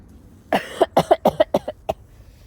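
A quick burst of about eight sharp coughs in a row, close and fairly loud, then quiet.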